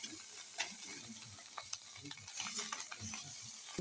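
Whole mourala fish frying in mustard oil in a pan, a soft continuous sizzle broken by scraping and clicking as the fish are turned, faint and close, with no talking.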